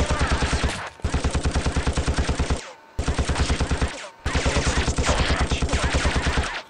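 Rapid automatic gunfire from the video game The Thing fires in three long sustained bursts separated by short gaps, loud and close with no speech.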